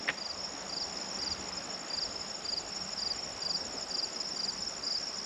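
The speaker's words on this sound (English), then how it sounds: "Listen to the crickets." Crickets chirp steadily in regular pulsed bursts along a hiking trail at Killbear's Lookout Point in Northern Ontario, a constant mid-distance insect chorus over faint outdoor ambience with no talking.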